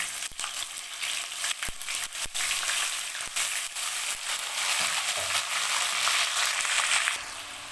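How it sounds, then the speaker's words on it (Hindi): Garlic ginger paste fries in a pan, a loud continuous sizzle with crackles and occasional stirring scrapes, close by and without talking. "तो अब ये लहसुन हमारा फ्राई हो चुका है।"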